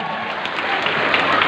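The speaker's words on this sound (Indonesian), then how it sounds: "Tepuk tangan dulu dong." An audience applauds at a polytechnic launch event in Indonesia, with a dense wash of clapping that stays steady and continuous through a short stretch.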